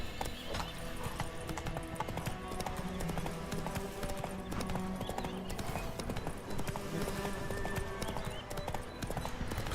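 Horse hooves clip-clop in a steady trotting rhythm in The Witcher 3, close and continuous, over a soft ambient game backdrop with a faint voice.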